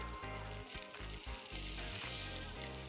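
Banana fritters frying in a pan give off a steady, close sizzle with low hum underneath, continuous and fairly quiet, with no talking.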